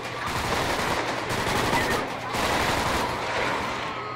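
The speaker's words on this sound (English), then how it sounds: "Go shoot the other guy." Dense rapid gunfire from GTA 5 rattles on without a break, loud and close. A second, slightly louder burst rises about halfway through.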